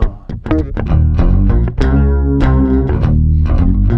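Distorted, effects-laden bass riff from the intro of a song, a punchy repeating pattern of plucked notes with chorus-like sheen, loud and upfront with no talking.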